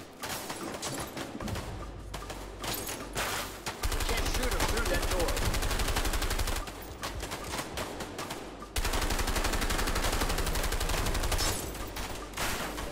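Sustained rapid gunfire from A Way Out cover-fire shootout, bursts of automatic shots rattling loud and dense with brief lulls between volleys, while voices talk underneath.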